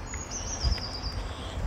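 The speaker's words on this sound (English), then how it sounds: "Birds are singing." Birds sing in a London park, a thin high warble and a few chirps at moderate distance over low, steady outdoor rumble.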